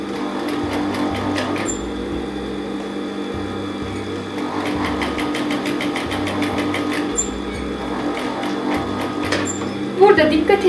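Sewing machine stitching two fabric pieces together, a steady mechanical whirr with rhythmic needle pulses running throughout, while a voice talks over it.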